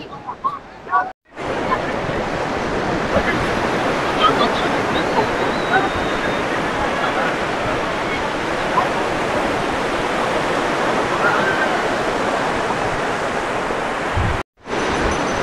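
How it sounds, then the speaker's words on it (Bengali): Sea waves break on Golden Beach at Puri in a loud, continuous roaring wash of surf that stays near and steady. Voices can be heard over it. "সমুদ্রের ঢেউটি দেখুন,"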